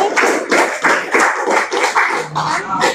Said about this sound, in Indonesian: kita beri tepuk tangan untuk diskusi kita kali ini